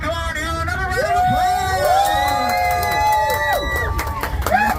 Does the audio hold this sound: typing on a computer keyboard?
no